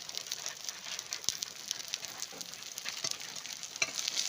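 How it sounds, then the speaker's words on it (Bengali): A spice paste of cumin, coriander, dried red chilli, salt and turmeric is stirred and sautéed for a magur catfish curry, producing a faint, steady sizzle with light scraping taps from the spoon. "দিয়ে ভালো করে আমি নেড়ে চেড়ে মশলাটা ভালো করে কষিয়ে নেব"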